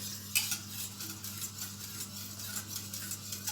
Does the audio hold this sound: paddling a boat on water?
no